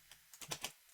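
A few soft, quick taps on a computer keyboard, the backspace key pressed in a short burst of faint clicks in a quiet room.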